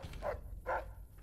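Dog in Fallout: New Vegas giving two short, muffled barks in quick succession, faint and low in level.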